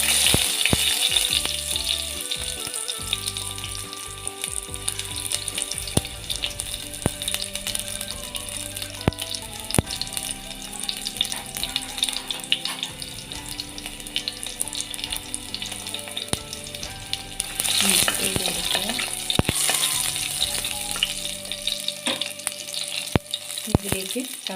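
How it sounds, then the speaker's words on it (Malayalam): Sliced shallots hit hot oil after mustard seeds in a pan, making a loud, steady frying sizzle with occasional stirring scrapes and spits. It runs continuously for over twenty seconds, with a brief surge partway through. "കടുക് പൊട്ടിക്കഴിഞ്ഞാൽ ഇതിലേക്ക് 3 ചെറിയ ഉള്ളി അരിഞ്ഞു വെച്ച് വട്ടത്തിലരിഞ്ഞത് ഇട്ട് കൊടുക്കുക"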